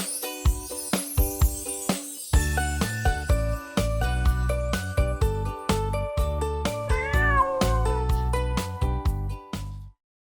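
A cat meows once over bouncy, jingling music with a steady beat.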